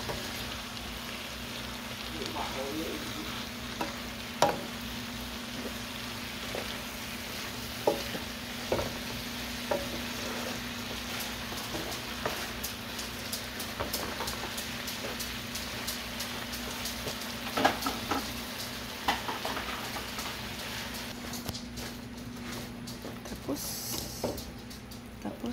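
Bean sprouts and bottle gourd (upo) being sautéed in a pan, giving a quiet, steady sizzle broken by scattered clicks and scrapes of stirring throughout.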